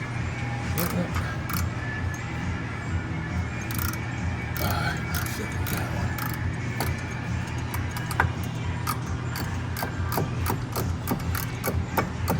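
A ratchet tightens drive shaft bolts on a 2019 Jeep Grand Cherokee Altitude, producing repeated quick clicking bursts in irregular runs over a steady low hum in a garage, with some speech.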